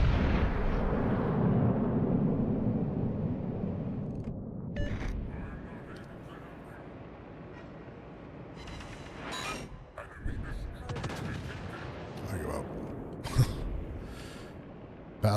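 Heavy naval gunfire booms from battleship cannons in a video game, a loud deep salvo at the start followed by scattered impacts and sharper bangs, with someone talking over much of it.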